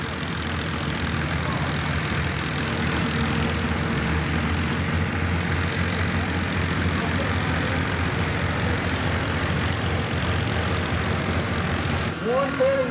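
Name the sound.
Farmall F-30 tractor engine during a tractor pull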